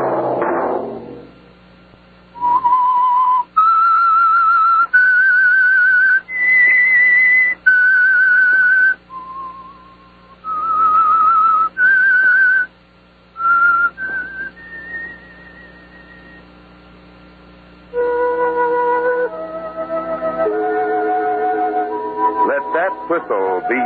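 The Whistler radio mystery series' signature theme whistled as a slow, eerie melody of sustained notes in separate phrases, clear and alone, ending in a rising run of notes.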